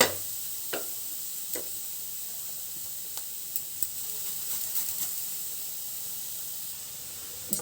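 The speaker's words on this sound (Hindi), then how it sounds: "इस तरह से गाजर हमारा भुन चुका है घी में।" Carrots frying in ghee for kesariya halwa, a steady soft sizzle and hiss with occasional small pops and spoon taps against the pan.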